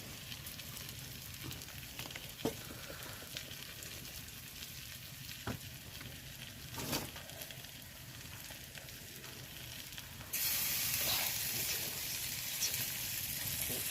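Garlic dropped into hot oil while cooking bottle gourd with prawns, giving a steady crackling sizzle that jumps louder near the end, with a few sharp stir clicks along the way.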